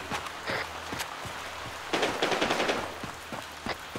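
Video game gunfire aimed at a vehicle's wheels: scattered sharp shots, then a dense burst of rapid fire in the middle, over a constant low background hum, no talk.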